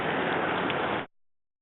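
Heavy rain pours outdoors in a steady, loud hiss with no voices, then stops abruptly, leaving near silence.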